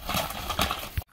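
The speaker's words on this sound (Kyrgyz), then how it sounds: "чагылган, бирок чоң ат экен" A big chagylgan (dun-colored) horse moves close by in a short burst of stamping and snorting activity, with a sharp thump near the end before silence.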